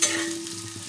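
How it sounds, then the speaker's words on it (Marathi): Homemade garam masala roasts in a pan, giving a brief soft sizzle with faint stirring scrapes and no voices. "सगळा मसाला छान भाजून घ्यायचा आपल्याला."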